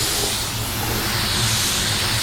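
A 3M Performance spray gun sprays paint onto a white car as a loud, steady, unbroken hiss with no pauses.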